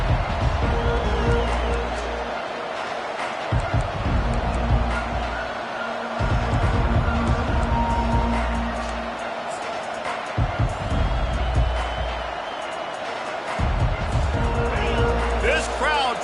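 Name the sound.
stadium crowd noise in College Football 25 video game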